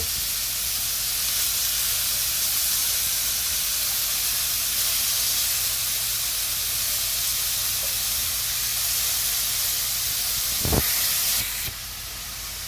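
Chicken tikka pieces frying in a pan, a continuous loud hiss and sizzle with a brief knock near the end and no talking.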